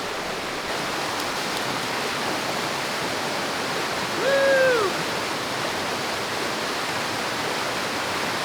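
A cold mountain stream swollen with winter snowmelt runoff rushes in a steady, loud, unbroken wash of white noise outdoors in the woods, with a brief bird chirp partway through.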